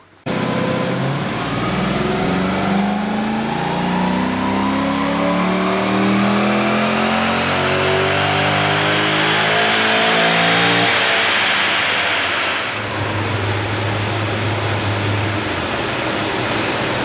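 A rebuilt 6 litre LS V8 with a turbo-killer cam, in a car with a manual gearbox, runs on a dyno. It revs loud and close in one long climbing pull, then drops back to a lower roar.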